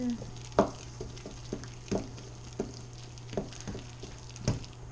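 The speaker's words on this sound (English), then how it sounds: "Just gonna mix that together." Oatmeal, plantain and sun butter are mixed together by hand, a utensil tapping and scraping in soft, irregular thumps about every half second over a low background hum.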